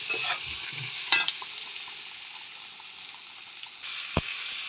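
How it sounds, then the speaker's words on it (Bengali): Pointed gourd and potato curry with turmeric fries in a pan, giving a steady soft sizzle with occasional clinks and stirring scrapes from the utensil, and no voices. "হলুদ দিলাম দিয়ে ভালো করে আরও ভেজে নিলাম ভালো করে"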